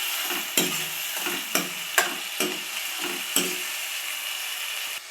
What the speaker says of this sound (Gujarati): એમાં બધું મિક્સ કરીને ધીમા ગેસે આપણે ચડવા દઈશું